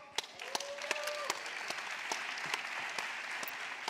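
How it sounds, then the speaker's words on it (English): A pitch-event audience claps for a round of applause, steady and moderately loud, with a few sharp individual claps standing out and a brief whistle-like tone early on. "Round of applause!"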